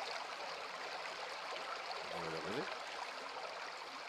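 Water trickles and gurgles steadily into a bottle in the survival game Survivalist: Invisible Strain, a faint continuous flow with a brief rising tone midway.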